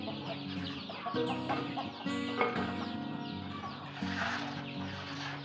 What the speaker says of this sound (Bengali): বাচ্চাগুলা খাবারের জন্য অনেক চিলাচিলি করতেছে